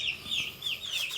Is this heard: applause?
no